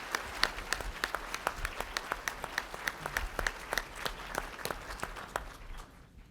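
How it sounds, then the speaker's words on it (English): Audience applause for the presenting sponsors at an annual Chamber of Commerce luncheon in Bloomington, Indiana: a steady run of crisp, close claps from a seated crowd for about six seconds, fading at the end. "let's give another round of applause to our presenting sponsors"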